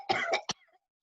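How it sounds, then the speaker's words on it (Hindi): Several people coughing from dust raised by beating a rug with sticks: a quick run of three or four close, harsh coughs, then quiet. "सब लोगों को खांसी,"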